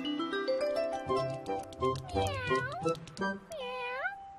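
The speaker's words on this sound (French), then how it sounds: "Le chat." A cat meows in a run of several rising and falling calls, close and fairly clear, with a longer drawn-out meow at the end.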